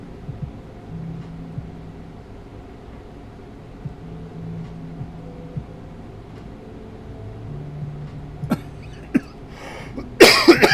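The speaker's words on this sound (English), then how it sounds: "I apologize for the coughing." Harsh coughing bursts break out near the end of a quiet stretch with faint low hum, a few short coughs followed by a louder, close fit, during a podcast.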